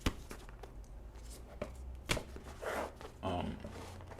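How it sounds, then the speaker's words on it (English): A deck of tarot cards is handled and cut, giving a run of sharp papery taps and slaps with two longer riffling bursts near the end, all close by and without speech. "I'm gonna cut this deck because I done shuffled"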